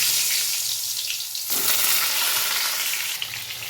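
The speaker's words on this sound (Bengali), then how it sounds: "এই যে কড়াইয়ে তেল গরম হয়ে গেছে একটু কড়াইয়ে পটলগুলোকে এবার ছেড়ে দেবো" Peeled pointed gourds rubbed with salt and turmeric hit hot oil in a wok, and a steady loud sizzle swells sharply as they go in, then keeps crackling close by.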